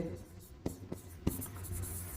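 Chalk or marker writing on a board during a Class 12 accountancy lesson, heard as a few brief taps and strokes, with a faint background hum and no clear speech over it.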